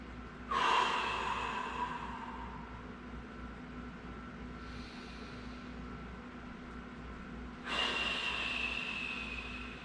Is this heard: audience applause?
no